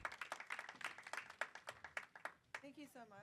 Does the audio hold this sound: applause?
yes